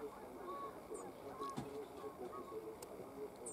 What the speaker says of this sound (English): Here's some geese over there.